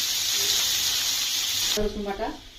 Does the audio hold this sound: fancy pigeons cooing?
no